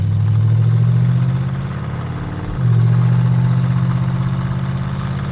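A 1932 Ford street rod running open headers idles loud and close with a deep, steady, throbbing rumble. It dips briefly once midway, then settles back into the same heavy idle.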